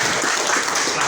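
Applause from a crowd at a gathering of community organizations in Bekasi, a short dense wash of clapping with no clear breaks.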